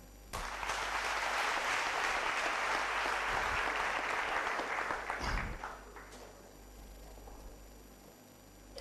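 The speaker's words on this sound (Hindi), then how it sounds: "दोनों को जोरदार तालियां।" An audience claps at a training session, a dense burst of applause that holds steady for about five seconds, then quickly fades into a quiet room.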